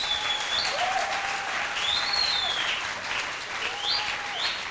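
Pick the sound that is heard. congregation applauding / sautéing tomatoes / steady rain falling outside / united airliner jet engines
congregation applauding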